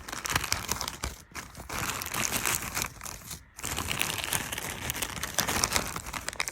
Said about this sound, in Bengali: এই নতুন পার্সেল আসছে। Let's unpack this.